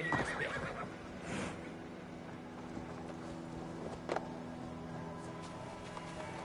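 A horse in the video game Assassin's Creed Valhalla gives one clear, close neigh near the start, and a few hoof clops and light patters follow over quiet game ambience.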